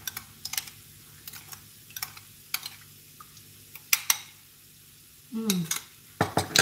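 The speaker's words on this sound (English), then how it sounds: "And then use a spoon, just mix them." Spoon mixing sugar and seasonings in a bowl for Chinese claypot beef rice, heard as a series of light, sharp clinks and scrapes at irregular intervals, with a brief murmur from a voice.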